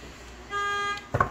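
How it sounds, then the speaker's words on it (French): A short car horn toot sounds, a steady blare lasting about half a second, followed by a brief louder burst of noise. "excusez-moi pour les bruits de klaxon"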